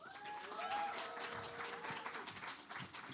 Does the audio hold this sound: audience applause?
yes